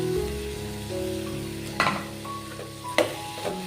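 Potato masala with green and white peas being stirred in a pan, a steady close sizzle broken by a few sharp scrapes and clinks of the spoon against the pan.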